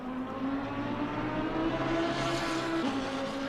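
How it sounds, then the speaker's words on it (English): A GT3 race car engine at the Nürburgring whines at high pitch, steady and loud, its tone rising and then dropping as it passes at moderate distance. "Listen to that car scream."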